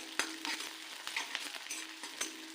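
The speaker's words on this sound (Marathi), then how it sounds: "थोडासा लालसर होईपर्यंत आपल्याला लसूण पण तळून घ्यायचा आहे" Garlic and curry leaves fry in hot oil for an okra dish. A steady, soft sizzle runs throughout, broken by irregular clicks of a spoon stirring in the pan.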